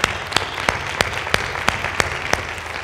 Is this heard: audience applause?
yes